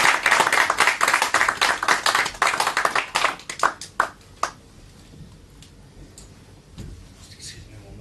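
A hypnosis show audience gives a round of applause for a participant: sharp, distinct claps from a modest crowd for about four seconds that quickly thin out and stop, followed by near quiet.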